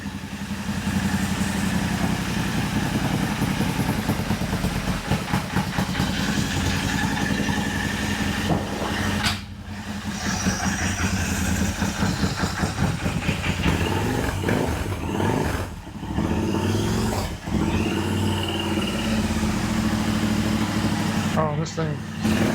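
A Revelry 700cc kit engine idling low, a steady mid-pitched rumble running the whole time with short dips, while people talk over it.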